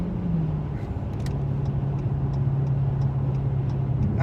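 A car engine running with a low steady rumble and a slight rise in pitch, heard up close and continuous, with faint ticking sounds over the hum.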